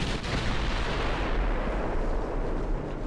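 Battleship main guns firing in the naval game Ultimate Admiral Dreadnoughts: a heavy, sustained roar of gunfire and explosions, loud and dense throughout, with no speech over it.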